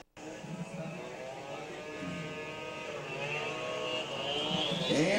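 Vintage Ski-Doo and Polaris snowmobiles race at a world championship event, a continuous loud two-stroke engine drone with rising pitch throughout, close and steady under crowd ambience, with no talk.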